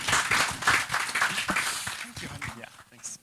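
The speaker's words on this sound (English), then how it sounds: "Can we get a round of applause for these panelists?" Conference audience at the launch of an agriculture data-sharing platform in Kenya applauds the panelists, with clapping that thins and fades out as a voice talks over it.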